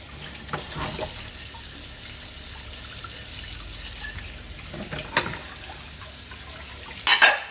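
Dishes are washed under a running kitchen tap, a steady gentle stream of water with occasional soft clinks and splashes, close and quiet, ending in a brief clatter.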